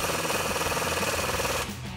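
A 15 mm socket drives down an exhaust clamp on an EcoBoost Ford Bronco, giving a close, rapid mechanical rattle of even ticks that runs steadily before cutting off near the end.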